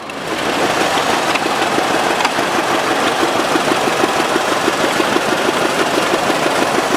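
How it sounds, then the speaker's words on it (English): A restored 1939 Farmall F20 tractor engine runs steadily at a county fair parade, a loud, continuous mid-low chugging with a fast, even beat and no talk over it. "It's a Farmall F20, a 1939 model"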